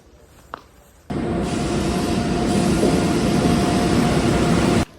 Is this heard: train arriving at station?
yes